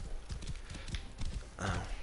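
Horse hooves clip-clop steadily in Assassin's Creed Origins, a brisk galloping rhythm of close, thudding beats with a brief whinny-like swell near the end.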